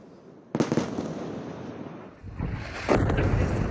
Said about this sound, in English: Israeli artillery and airstrikes have pounded Gaza in one of the most intense sustained bombardments the narrow strip of land has ever seen.